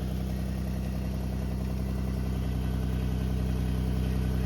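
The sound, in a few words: car engine running after a long crank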